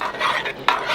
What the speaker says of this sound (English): we're going to stir that in until our soup is smooth